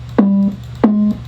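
Two pitched-up 808 bass notes, each a short punchy hit settling into a brief held tone, played alone and clearly.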